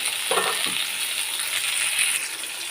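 Tomatoes frying in hot oil in a pan give off a steady, dense sizzle with a few light clinks and stirs near the start, close and continuous throughout.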